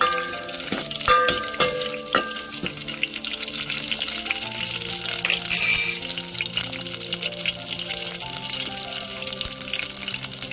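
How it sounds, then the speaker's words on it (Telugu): Garlic and dried red chillies fry in hot oil, a steady close sizzle with crackles and occasional clinks of a utensil against the pan, no voices. "నూనె వేడైందండి. వెల్లిపాయ, ఎండుమిర్చి వేసానండి."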